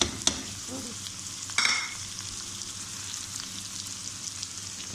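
Mutton with tomatoes and spices frying and being stirred in a pan: a steady close sizzle, broken by two sharp scraping stirs near the start. No one speaks.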